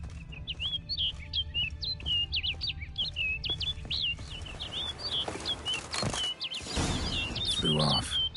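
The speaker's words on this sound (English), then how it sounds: "Looks like the bird's leading me somewhere." A bird in The Witcher 3 chirps in a quick series of bright, high tweets over a low game ambience, followed by a louder rushing sweep and other noise near the end.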